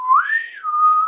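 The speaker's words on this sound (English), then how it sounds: "An Irish tin whistle," Irish tin whistle playing a single short rising then settling note, clear, close and alone.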